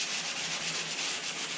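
Back doors being sanded by hand with 180 grit sandpaper, a steady, close, hissing scrape in continuous strokes with a faint regular pulse.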